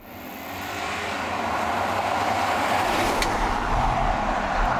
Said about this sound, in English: So let's go take it for a drive now.